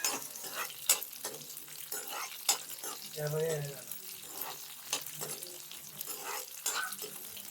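Cumin, mustard seeds, dried red chillies, garlic, curry leaves and thinly sliced onions crackle in hot oil for a tempering, with bright sizzling, popping bursts and stirring scrapes, loud and close throughout.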